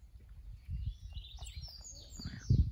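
A sibite songbird gives short, high chirping calls and trills, fairly faint, with some low handling noise and rustling underneath.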